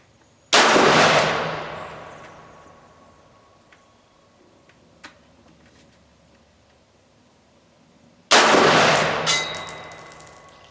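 An AR 601 build rifle fires Winchester 55 grain Lake City ammo: two loud, sharp shots about eight seconds apart, each trailing a long echoing decay, with quiet between.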